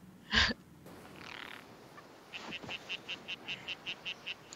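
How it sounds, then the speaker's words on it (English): A frog croaking in a steady rhythmic series of short pulses, about ten evenly spaced calls heard fairly faintly, preceded by a brief sharp burst and some quiet background noise. "You hear that frog?"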